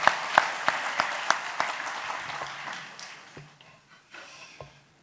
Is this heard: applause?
yes